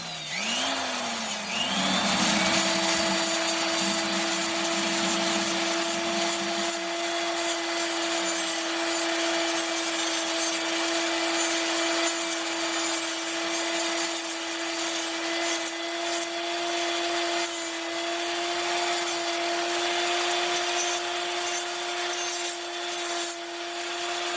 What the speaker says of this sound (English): The reason I gotta go with the grinder is there's too much crust on it.